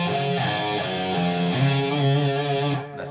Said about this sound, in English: That's the sound of that arpeggio.